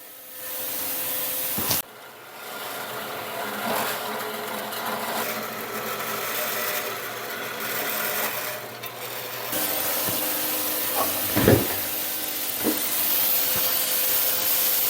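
A steady, loud machine-shop power-saw whine runs through most of the stretch with a short break, grinding hard through a metal spindle part and ending in a few sharp clanks.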